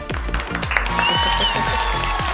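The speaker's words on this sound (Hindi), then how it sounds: "इस टीम के लिए बहुत सारी तालियां।" Applause for the winning team of an online Sunday school activity, a short wash of clapping mixed under bright, rhythmic musical tones that pulse steadily throughout.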